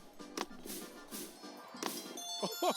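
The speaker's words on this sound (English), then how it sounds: "Those are my famous Christmas jingle bells." Collecting a jingle bell in a Rudolph Christmas video game gives a few soft, bright chiming dings over a quiet game backdrop, with the last chime near the end.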